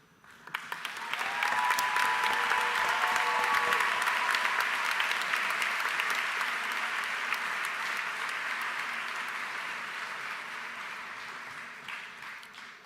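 A high school graduation crowd in a convocation hall breaks into sustained applause as a graduate is called to the stage, the clapping swelling quickly and holding loud and dense before slowly tapering near the end.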